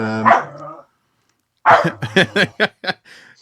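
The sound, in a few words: dog barking to be let out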